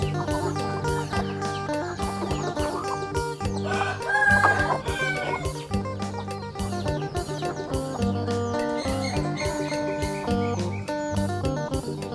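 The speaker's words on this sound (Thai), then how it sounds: "นี่คือไก่ชีวิตความเป็นอยู่ของไก่ครับ" Free-range native village chickens cluck steadily and close by, with repeated short calls overlapping into a busy chorus and a possible rooster crow partway through.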